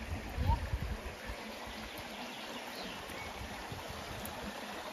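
A small, narrow stream flows beneath a footbridge, giving a steady soft rushing murmur throughout, with a brief louder rustle near the start.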